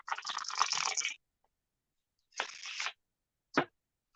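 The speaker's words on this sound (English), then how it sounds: "So all the cards are shuffled." Deck of playing cards being shuffled: a long crisp riffle, a shorter second riffle, then a quick final snap of cards, close and quiet with silence between.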